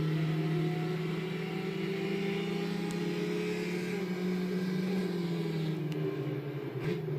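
Engine of a Ford Ka racing in the Gran Turismo 5 video game at the Autumn Ring Mini track, a steady droning hum whose pitch shifts with throttle changes, continuous and moderately loud.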